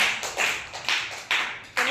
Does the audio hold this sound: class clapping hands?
yes